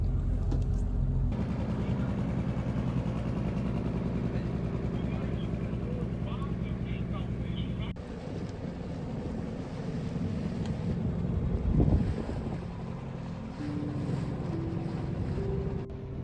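A sailboat motoring on its engine across a calm sea under grey, showery skies, with a steady low engine drone, wind rushing over the microphone and water wash, and a voice talking over it at times.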